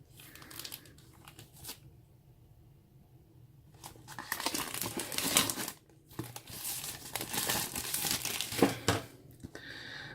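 Crinkly plastic packaging being opened and handled while unboxing a Wootbox mystery box packet: scattered rustles and crumples, a quiet pause, then several seconds of dense, louder crinkling and tearing close by.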